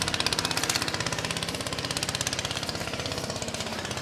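Motorboat engine on a river, a fast steady throbbing chug from a nearby outboard as boats come in from the islands, loud and continuous with no talk.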